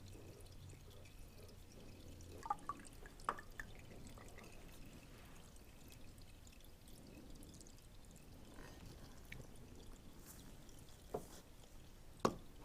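Motor oil draining from a Honda Goldwing GL1800 motorcycle into a pan during an oil and filter change, a faint steady trickle with occasional soft drips and clicks, no talking.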